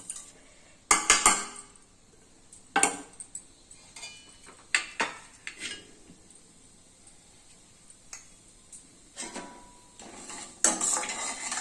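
Cumin, mustard seeds and chana dal are tempered in a pan, heard as scattered sharp metallic clinks and scrapes with bursts of crackling between quieter pauses, and no voices.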